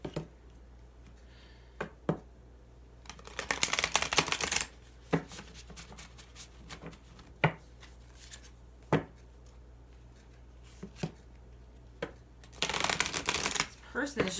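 Oracle cards are shuffled in two close, crisp riffling bursts, separated by scattered soft taps and card handling, with a quiet room background.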